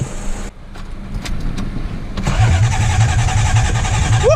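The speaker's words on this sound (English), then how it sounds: "about to crank it up, see if she starts" A rebuilt Toyota 5MGE car engine cranks briefly, then catches and starts, settling into a steady, loud idle up close with no voices.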